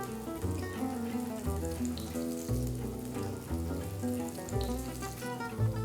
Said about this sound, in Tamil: எண்ணெய் சூடானதும் இதுல செஞ்ச பேட்டிஸை போடுங்க.